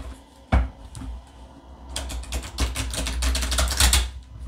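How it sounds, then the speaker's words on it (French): Tarot cards shuffled by hand at a table, a single sharp slap followed by a busy, riffling flutter of cards that grows denser and louder toward the end. "ensuite, tu mélanges tes cartes"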